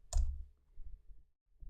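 A single keyboard key press for Enter, one sharp close click followed by a few faint soft taps and handling noises in a quiet room.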